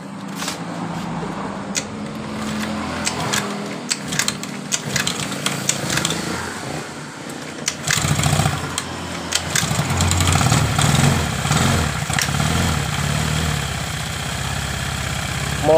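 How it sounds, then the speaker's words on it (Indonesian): Honda Vario scooter engine, tested with fuel fed from a bottle to trace an automatic fuel valve or valve fault, starts with rattling bursts and then settles into a steady, close idle. "perhatikan motor hidup dengan normal"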